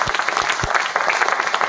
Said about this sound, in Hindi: एक बार तालियां बजा करके हमें आदेशित कर दीजिए।